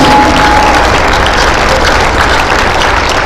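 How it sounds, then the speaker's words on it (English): Loud, sustained crowd applause fills an arena at a women's college basketball game during a senior-night ceremony. The clapping is dense and unbroken, with a faint murmur from the crowd underneath. "let's have a final round of applause for both these outstanding 2022-23 Yellow Jacket women's basketball seniors and their families and guests"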